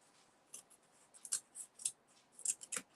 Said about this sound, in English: rather than trying to cut it with scissors, I'm going to just use my craft knife